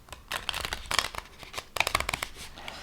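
A tarot deck shuffled by hand, crisp papery riffs and flicks of cards in quick uneven bursts, close and fairly quiet with no talking.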